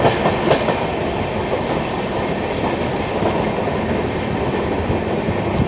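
Inside an AC 2-tier coach of the Ajmer Ernakulam Marusagar Express, train 12978, a steady loud rumble of the moving train with faint wheel clicks and no voices.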